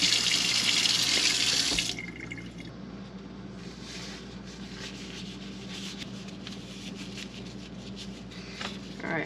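Tap water gushes loudly into a sink for a couple of seconds while jalapenos are rinsed, then shuts off, leaving faint drips and light handling sounds in a quiet kitchen.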